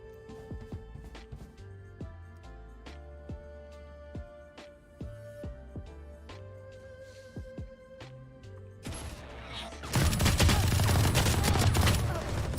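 Gunfire in the Valorant video game sounds as rapid, sharp shots over tonal background music, ending in a dense burst of louder noise near the end; a person talks at times.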